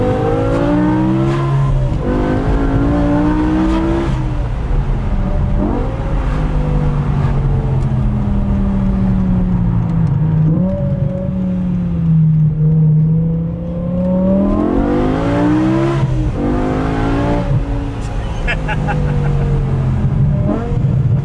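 BMW E60 M5 fitted with an Eisenmann race exhaust pulling through repeated gear-by-gear accelerations, the engine note climbing and dropping several times, loud and close, with a brief lull midway.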